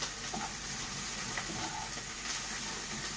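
Minced garlic, a small amount, frying in a pan and being stirred, giving a soft, steady sizzling hiss with faint scraping, quiet and continuous throughout.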